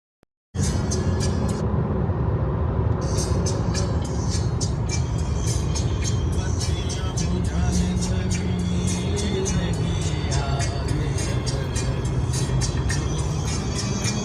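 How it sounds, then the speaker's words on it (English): A car drives through Boston city streets at night, a steady close interior road rumble and engine hum throughout, with faint repeated ticking like a turn signal over parts of the drive. "there is a tiny bit of driving in Boston City"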